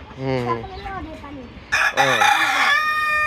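Rooster crowing on a small rooftop farm kept with pigeons, turkeys and local and farm-bred chickens; a loud, near crow rises with harmonic calls, then a second rooster crows over it, with clucking behind.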